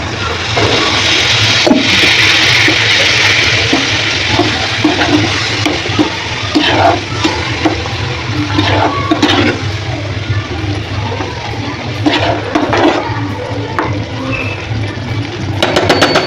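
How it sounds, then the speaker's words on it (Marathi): Steady rushing pour of water into a pan of peas and paneer masala, loud and continuous, with occasional clinks of metal over the hiss. "पाणी टाकू"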